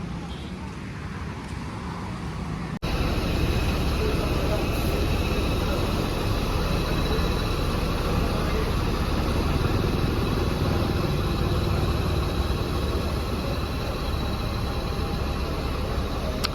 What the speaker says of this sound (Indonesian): Oke, itu bisnya sudah diberangkatkan